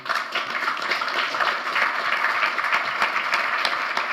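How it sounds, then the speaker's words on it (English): A conference audience applauds a financial-crisis panel, a steady, moderately loud patter of many hands with individual claps standing out, sustained throughout. "Let's give my panel a round of applause, ladies and gentlemen."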